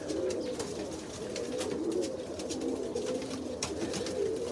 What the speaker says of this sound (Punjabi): ਸਾਡੇ ਕੋਲੇ ਬਰੂਨੀ ਆ ਵੱਡਾ ਕਬੂਤਰਾ